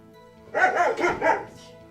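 A dog barks several times in a quick close burst of about four loud barks in the Apollo Justice: Ace Attorney Trilogy game, with quiet before and after.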